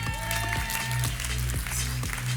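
Audience applauding graduates at a French Master's diploma ceremony: steady, dense clapping from a crowd, fairly loud and continuous, with a few sharper individual claps standing out and a faint hum beneath.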